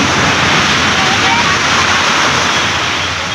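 Sea waves on Puri beach, a continuous loud wash of surf filling the whole moment without pause.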